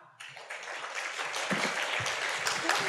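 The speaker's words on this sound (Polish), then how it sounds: "Brawa." Applause from an audience at a Polish talk in a university lecture hall as a guest speaker is introduced, a dense, building patter of many hands that starts abruptly and grows fuller, with a few sharper claps standing out.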